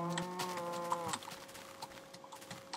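Cows mooing in the Minecraft video game: a single drawn-out bovine moo for about a second, near and clear, followed by quieter low background noise.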